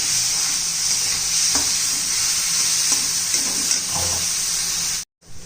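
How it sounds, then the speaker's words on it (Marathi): Onion sautéing in a pan with salt for a pea and spinach curry, a loud steady sizzle with occasional stirring scrapes, close up, cutting off abruptly near the end. "चांगलं 2-3 मिनिट तरी कांदा परतून घेऊया, म्हणजे चांगला मऊ होईल"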